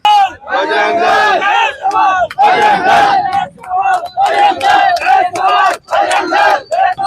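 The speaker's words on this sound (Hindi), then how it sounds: "लगातार नारेबाजी यहाँ पे की जा रही है" Loud crowd chanting slogans in rhythmic bursts at a Hindu organisations' protest in Birgaon over a Bajrang Dal worker's killing, with voices shouting in unison close by and only brief pauses between calls.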